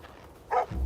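Joszko the dog gives one short, quick bark, followed by a low thump. The sound is brief and moderately close.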